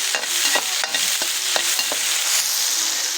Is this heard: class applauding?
no